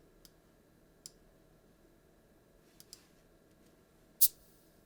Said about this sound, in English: it is a Cabasa sound